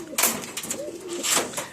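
Surmia and Lalmun pigeons coo close by in a soft, rolling series of throaty calls, with a few brief rustles in between.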